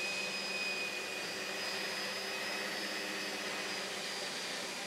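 Vacuum cleaner fitted with a spinning roller nozzle gliding over carpet, giving a loud, steady whirring roar with a high motor whine that holds unbroken throughout, with no talk.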